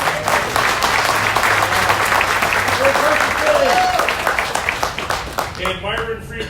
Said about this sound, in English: Quite a round of applause you got there, Mark.